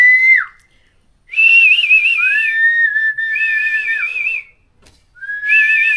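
A person whistles a wavering, tuneful melody up close in a hanging tree house, in three loud phrases separated by short silences, with no talking.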